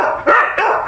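A dog standing guard over a neighbor's chickens lets out two quick, loud, close barks within a second, with no talk over them.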